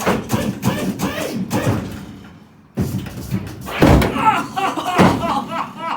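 A Classic Mini on hydraulic suspension drops hard onto the garage floor, giving heavy thumps and clunks in two bursts separated by a short lull, with people talking close by.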